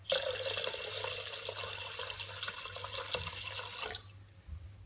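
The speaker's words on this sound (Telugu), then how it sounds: "ఇప్పుడు ఇంకో రెండు గ్లాసులు నీళ్ళు వేసేసుకోవాలి" Water pours steadily into a pressure cooker for about four seconds, splashing and gurgling up close, then stops, leaving a faint drip.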